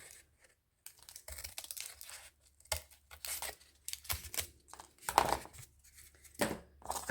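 A leftover piece of paper is cut by hand while crafting doors for a journal: scattered, crisp snips and crinkling rustles arrive in uneven bursts with short quiet gaps, close by and fairly soft, with no talking.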